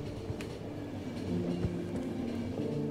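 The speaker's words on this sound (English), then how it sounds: "I gotta stop the train, though" A train in The Final Station rolls along with a steady low rumble, rhythmic wheel clacks and a few tonal hums, growing slightly louder toward the end, with no talk.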